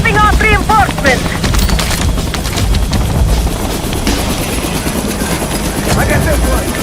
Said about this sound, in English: Another helo incoming. They're dropping off reinforcements.